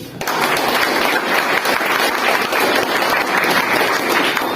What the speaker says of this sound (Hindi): एक बार हम चाहेंगे कि हम लोग जोरदार तालियां यहाँ पर बजाएं इस फोर्साज सिस्टम के लिए।